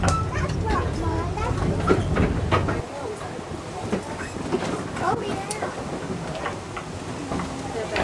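A steady rumble and rattling clatter from a safari ride train on its tracks at Rafiki's Planet Watch; the low rumble drops away partway through, leaving lighter clicks and noise.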